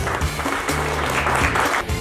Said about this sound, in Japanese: どうぞ大きな拍手をお願いいたします。